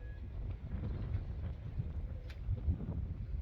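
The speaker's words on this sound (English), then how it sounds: "whoa, the wind's coming up." Outdoors near an outdoor kitchen, a gust of wind buffets the microphone as a low, steady rumble with uneven swells, fairly faint, with no one talking.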